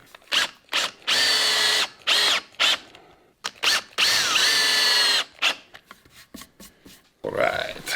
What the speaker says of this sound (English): I'm going to throw a couple of finish screws in the back here to give some added strength to it